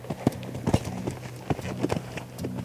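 A horse warming up over jumps of about 90 cm under a female rider, its hooves clip-clopping in a quick, irregular rhythm, fairly close and distinct against a low background hum.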